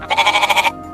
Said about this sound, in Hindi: बकरी बोली।